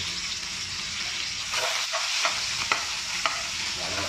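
Onion and garlic sautéing in a pan for sarciadong isda, a continuous bright sizzle with a few sharp clacks of a spoon or spatula stirring, close and alone with no talk.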